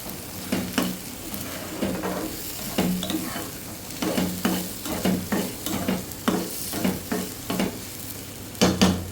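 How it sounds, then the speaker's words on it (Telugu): Raw prawns and tender tamarind leaves fry in oil with a constant sizzle, while a utensil stirs and scrapes the pan in repeated rhythmic strokes, close and clear. "అలా వేపుకోవడమే ఆయిల్ బాగా కనిపించే వరకు"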